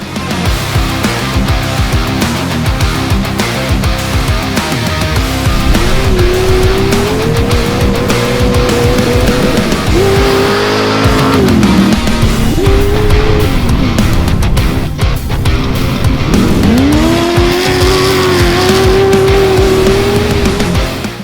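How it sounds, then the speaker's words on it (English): A Kingswood race car is driven hard at speed, its engine loud and close with rising and falling revs through gear changes, plus brief tyre squeal, running continuously throughout. "Sean Beck was piloting the junior development Kingswood, along with Ewan McCann was setting some great times"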